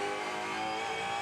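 A Supercars race car at Mount Panorama screams at full throttle, a dense, loud, steady engine howl with bright harmonics heard close for a short burst.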